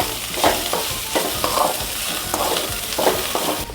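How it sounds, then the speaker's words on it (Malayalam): Spatula scraping and stirring jackfruit seed thoran in a hot pan, close and loud, with repeated strokes over a light sizzle and no talking. "ഒന്ന് ഇളക്കി കൊടുക്കാം. ഇതിനകത്തൊന്ന് മിക്സ് ചെയ്യുക."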